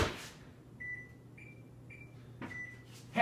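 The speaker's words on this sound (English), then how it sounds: "we're back with the annoying sound that the oven is making" Several short electronic beeps from an oven, a few spaced tones in a quiet room, framed by door or cupboard knocks at the start and end.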